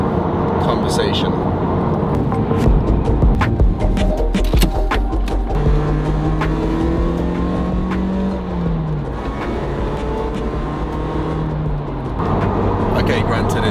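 A Nissan Silvia S15 drives along, its engine droning and rising in pitch through a gear change, heard from inside the car over steady road noise while someone talks.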